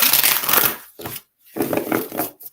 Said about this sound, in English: So Hope, I'm going to shuffle up and pull an oracle card for you.